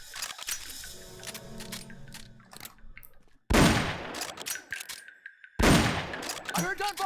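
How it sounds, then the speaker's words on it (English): Bursts of rapid gunfire crackle in two loud volleys in Metal Gear Solid: Peace Walker, separated by quieter game sounds and electronic tones. "I heard gunfire!"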